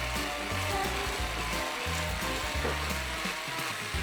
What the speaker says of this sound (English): So 3 eggs and your sugar and start beating it up.